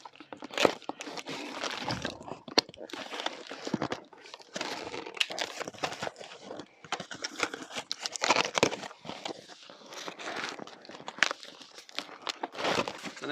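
Cardboard packaging for a reciprocating saw is handled and opened, with continuous crinkling, tearing and crunching of box and stickers, close and fairly loud, in irregular bursts.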